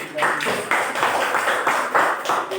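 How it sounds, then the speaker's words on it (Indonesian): A classroom of students clapping hands together during a lesson, several quick rhythmic bursts of close clapping in a steady pattern, with faint voices behind. "Tepuk tangan dulu"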